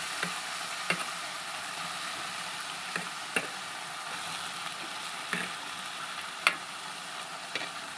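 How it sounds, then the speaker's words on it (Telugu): Chopped ridge gourd hitting a hot pan for a prawn and ridge gourd curry, giving a steady soft sizzle with a few sharp clicks and taps scattered through. "ఇప్పుడు బీరకాయ కోసి పెట్టుకున్న బీరకాయ వేసేయాలండి దాంట్లో"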